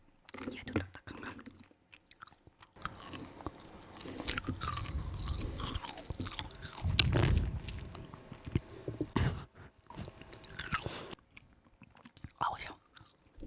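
Frozen jelly candy is bitten and chewed close to the microphone in ASMR style, with hard crunchy bites and wet, squishy mastication in uneven bursts, broken by short pauses and a quiet whisper.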